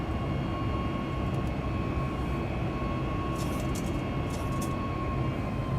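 Boeing 737 MAX 8 taking off in the X-Plane 11 flight simulator, a steady jet engine roar with a constant whine on top, holding at an even level throughout, with a few faint clicks near the end.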